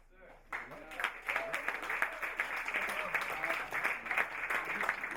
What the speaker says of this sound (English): One more round of applause, guys, for Lisa Louis Bellows.